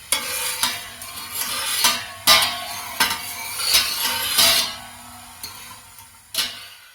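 A spoon stirs sugar in a pot while making fruit tea wine, scraping and clinking against the metal in repeated strokes, close and clear, with a faint sizzle-like hiss underneath.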